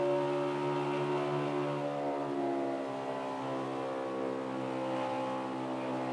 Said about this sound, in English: You just hear when he lets off and when he's right back in the gas.